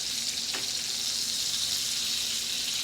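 A steak fries in butter in a pan, giving a steady, dense sizzle heard close up, with no talking.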